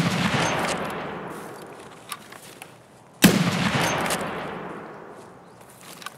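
Gunfire in Escape from Tarkov: a loud sharp shot mid-way with a long echoing tail, plus fainter distant reports and a decaying rumble before it, no talking.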